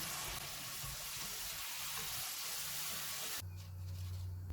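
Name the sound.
besan chips frying in oil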